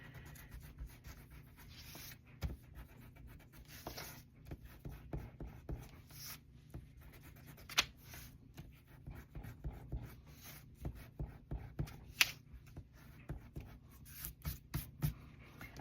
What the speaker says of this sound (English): I'll line it up properly so I can erase that pencil line